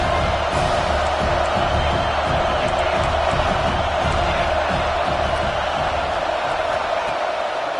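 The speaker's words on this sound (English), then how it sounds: "This crowd trying to make life miserable for this offense." A stadium crowd roars throughout a college football game between Auburn and TCU, a loud, continuous wash of cheering and shouting with no pauses.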